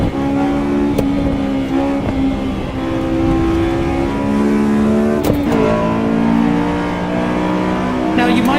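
Honda S2000 engine in the Assetto Corsa EVO racing game, holding a steady high-revving drone with brief throttle blips and shifts, loud and continuous throughout.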